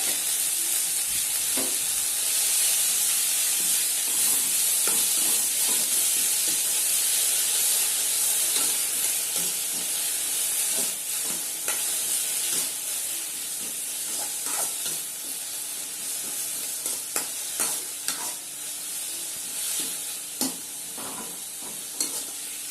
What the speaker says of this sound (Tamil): கீரையை நல்லா வதக்கிக்கோங்க